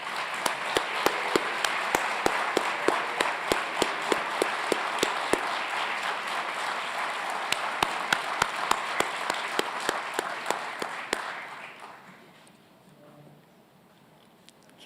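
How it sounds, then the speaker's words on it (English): Audience applauding standing graduates at a Doctor of Physical Therapy convocation ceremony, steady dense clapping with sharp individual claps for about eleven seconds before fading out into quiet room tone. "give you all a round of applause"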